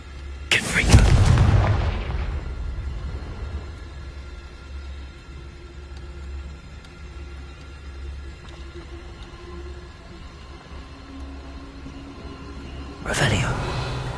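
A Confringo fire spell bursts in Hogwarts Legacy with a sharp, loud explosion at the start, then a low rumbling tail under quiet ambience, followed near the end by a second sharp burst.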